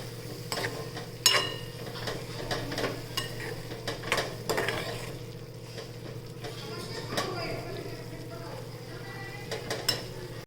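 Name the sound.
stirring vegetable dish with salt and turmeric in a pan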